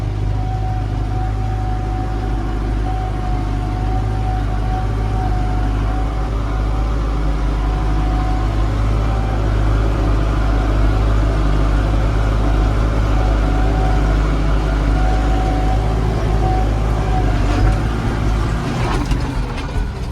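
A Phantom 3.085 tractor engine runs in a steady, continuous drone with a low rumble and a faint tonal whine, holding evenly for the full stretch while preparing a chickpea field.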